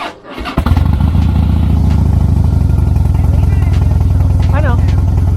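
A 2011 Harley-Davidson Heritage Softail idles loud and close after it fires up, its steady low rumble running throughout with brief voices mixed in.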